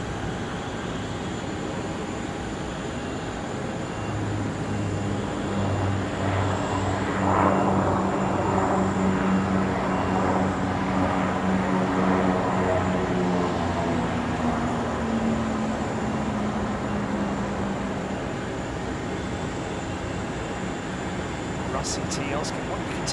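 A Lockheed C-130 Hercules turboprop drones at Anchorage airport, a steady mid-distance engine roar with a slowly shifting pitch that swells and fades, while someone talks over it.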